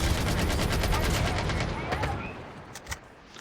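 Gunfire in a video game: rapid bursts of shots rattle loudly for about two seconds, then fade into a few sparse, quieter reports.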